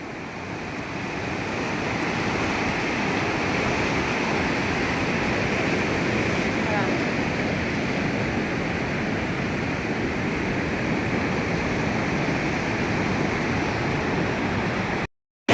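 Rushing water of the Dasan river in Chhatarpur pouring over large boulders, a loud, steady roar of churning flow that swells in the first seconds and holds constant before cutting off abruptly.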